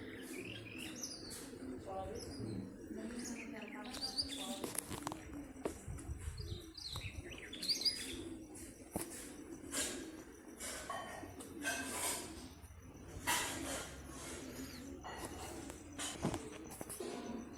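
Pigeons on their first release flight flutter in and land, with faint wing flaps and bursts of movement mixed with soft chirps and coos from nearby birds. A voice speaks at times.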